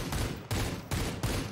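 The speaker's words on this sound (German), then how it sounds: "Ich höre die ganze Zeit Schüsse." Gunfire in the battle royale video game Super People, four heavy blasts with rapid-fire bursts at regular intervals, loud and close, with no voices.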